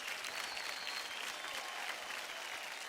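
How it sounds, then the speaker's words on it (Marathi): Steady applause from a studio audience for a contestant on a Marathi TV dance competition show, dense and even throughout with crowd noise and no talk. "वा वा, जोरदार टाळ्या होऊन जाऊ द्या पुण्यकरसाठी."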